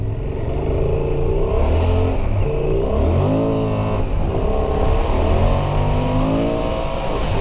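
Honda Africa Twin or Transalp adventure motorcycle fitted with an aftermarket exhaust pipe, loud and close, engine revving up in repeated rising sweeps as it pulls hard through the gears; no talking.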